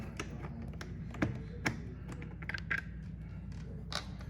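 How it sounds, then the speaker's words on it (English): Phillips screwdriver backing a screw out of the balance shoe of a double-hung window, heard as scattered light taps, clicks and a few sharper knocks against a steady low background hum, close and fairly quiet. "We take our Phillips screwdriver and remove the screw."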